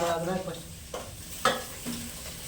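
Food frying and being stirred in a pan for a quick home-cooked garlic kebab dish, a soft steady sizzle with occasional scraping stir strokes, close and fairly quiet.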